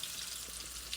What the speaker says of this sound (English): And now we frying these fried green tomatoes.